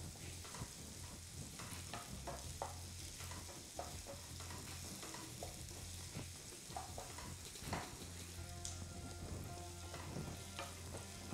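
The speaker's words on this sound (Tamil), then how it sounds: "இப்போ வெங்காயம் ஓரளவுக்கு வதங்கியிருக்கு" Onions sautéing in a pan for a vendakkai and carrot stir-fry, a steady loud sizzle and crackle running throughout, with scraping stirs of a spoon against the pan and no talking.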